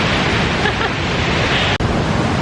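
Waterfall in DuPont State Forest near Asheville rushing with a dense, steady roar of water that stays loud and unbroken throughout, heard from close by.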